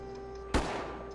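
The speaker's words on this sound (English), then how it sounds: "Oh no, the shotgun!" A single sharp shotgun blast in the Worms 3D video game, one loud burst followed by a fading tail over a steady game soundtrack hum.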